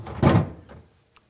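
A Samsung refrigerator crisper drawer slides in on its wheels along the track and shuts with one close, solid thunk, followed by a faint rattle and a small tap as it settles into position.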